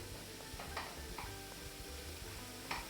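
Onions sautéing in fat in a pan, a steady low sizzle and crackle with a few soft clicks of stirring, moderately quiet throughout.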